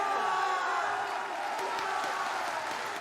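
A rally crowd in All Quiet on the Western Front cheers and shouts in a short, steady burst of massed voices, moderately loud and unbroken.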